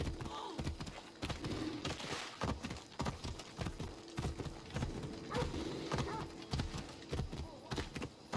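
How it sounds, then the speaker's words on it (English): Rapid clip-clop of horse hooves trotting close by in the video game Assassin's Creed Odyssey, steady and rhythmic, with a brief whinny mixed in over a faint background. "That's a nice horse, Socrates."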